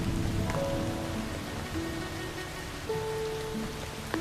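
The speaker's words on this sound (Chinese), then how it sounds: "下雨了" Light rain falls steadily with a soft, even hiss that runs the whole time, with a few faint sustained tones above it.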